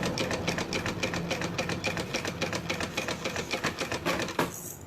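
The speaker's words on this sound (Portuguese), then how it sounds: "E vou fazer essa costurinha bem na beiradinha" A sewing machine stitches a wide safety seam along the edge of a sublimation-printed bag, fastening a pocket in place, with a quick regular needle rhythm that is close and clear and stops near the end.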